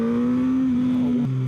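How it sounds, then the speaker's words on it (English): A 2016 Suzuki GSX-S 1000 motorcycle engine gives a steady drone with a strong low hum for over a second, then the pitch drops as the throttle eases, heard close with no talking. "I'm digging the engine sound."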